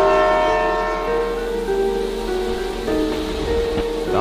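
A train arriving at a lonely station at night, a continuous rumbling roar with sustained horn-like tones and hiss, loud and steady throughout as an eerie sound effect.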